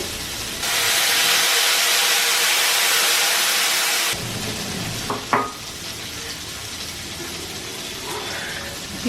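Tamarind water poured into a hot frying pan for a peppery tamarind dish, bursting into a loud, bright sizzle that holds steady for a few seconds, then settles into a quieter simmering hiss with a brief clatter.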